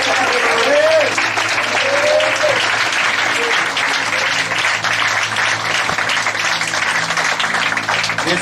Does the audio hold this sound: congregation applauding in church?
yes